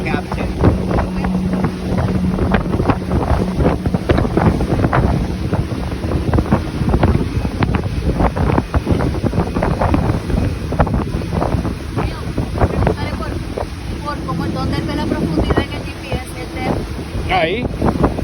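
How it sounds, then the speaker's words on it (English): Steady roaring outboard motor with a rough, churning whine as the propeller cavitates and loses grip on the water, wind buffeting the microphone and voices talking underneath. "The prop's not catching water now, so you get the cavitate."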